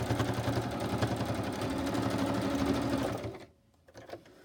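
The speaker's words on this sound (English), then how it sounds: "And stitch it backwards and forwards." A sewing machine runs steadily, stitching a tag made from an old book page backwards and forwards, a loud close mechanical whir with rapid needle pulses that stops abruptly near the end, leaving quiet handling sounds.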